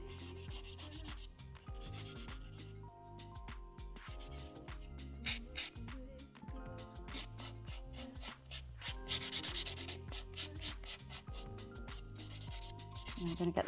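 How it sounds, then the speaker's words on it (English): A nail file rasps back and forth across acrylic gel nails in quick, close strokes. The rubbing grows faster and more rhythmic toward the end. "So I'm going to file these into shape now."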